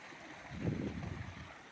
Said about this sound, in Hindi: ये आ गई नदी